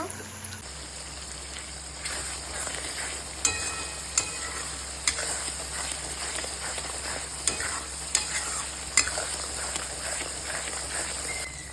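Spice masala of Kashmiri chilli and ground black pepper fries and is stirred in a pan, a steady close sizzle broken by sharp scraping clicks of the spoon at irregular intervals, with no talk.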